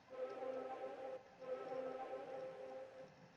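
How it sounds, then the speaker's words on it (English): A soft, droning synth pad hums steadily at low volume, with a hazy, airy texture and no voices. "ambient kind of sounding synth here"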